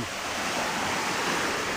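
Pacific Ocean surf at Lopez, Quezon, Philippines, washes in a steady broadband rush, continuous and fairly loud, with typhoon wind blending into the roar.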